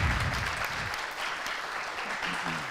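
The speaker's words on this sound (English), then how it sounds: "Big round of applause." Applause from a conference audience for two speakers representing a sponsor, a steady wash of clapping filling the room throughout, fairly faint and distant, with a brief low voice or murmur at the start.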